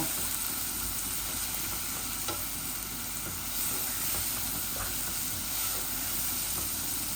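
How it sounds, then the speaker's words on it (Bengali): Dried fish (shutki) with onions and spices frying in a pan over high flame, a steady close sizzle and crackle with faint stirring scrapes throughout, no voices. "ও আমার পেঁয়াজের সাথে আমার শুটকি মশলা সবটা ভাজা ভাজা হয়ে যাইব।"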